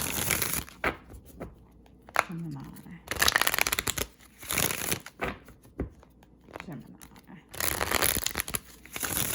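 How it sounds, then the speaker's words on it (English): Tarot cards being shuffled in repeated bursts of riffling and flicking, close up, with short pauses between rounds. "I want to shuffle this for you guys on camera."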